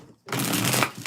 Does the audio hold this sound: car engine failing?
no